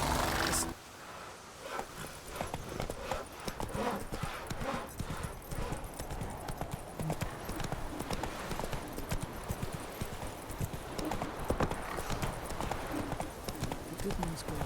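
Hooves of Roach, the horse in The Witcher 3, galloping in a fast steady clip-clop across the whole stretch, with game ambience and occasional voices mixed underneath.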